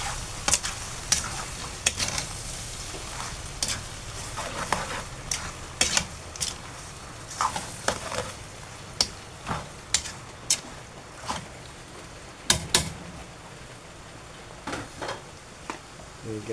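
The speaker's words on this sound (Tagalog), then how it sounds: "Haluin na natin." A spoon stirs dinuguan, pork blood stew, in a cooking pot with repeated scraping and clinking strokes over a low simmering hiss, heard close by with a little talk.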